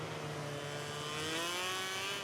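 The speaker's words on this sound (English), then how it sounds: "McDonald revving up. Bike not liking it." A motorbike engine revs in the racing game MotoGP 17, a continuous high, strained whine that climbs slowly in pitch as the bike struggles, steady and close throughout.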